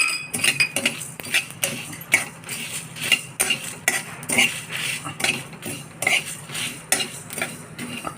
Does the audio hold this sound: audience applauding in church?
no